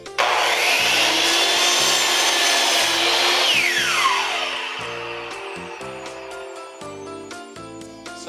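Hitachi C10FCE2 10-inch compound miter saw cuts crown molding: a loud whining blade bites through the wood with a rasping cut, then the motor spins down with a falling pitch while faint clicks follow.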